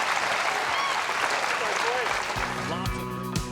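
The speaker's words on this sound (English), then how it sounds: "The crowd is standing and applauding." A crowd at a pickleball championship gives a standing ovation, dense sustained applause filling the space, with whistles and cheering rising over it toward the end.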